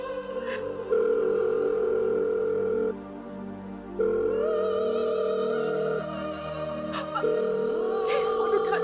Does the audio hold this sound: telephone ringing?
yes